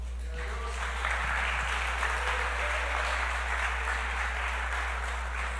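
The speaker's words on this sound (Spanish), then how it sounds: "Denle un aplauso a Jesús." Church congregation applauding during a service, a sustained burst of clapping from a crowd that carries on steadily at moderate level beneath a low constant hum, with no speech over it.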